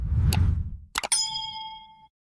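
A soft whoosh is followed by a sharp double strike and then a clear bell-like ding that rings out and fades, a notification-style chime heard alone.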